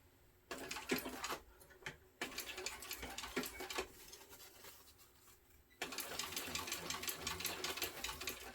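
A sewing machine stitches elastic along the edge of a vinyl backpack panel, running in a steady close mechanical whir with short bursts and pauses, then a longer continuous run.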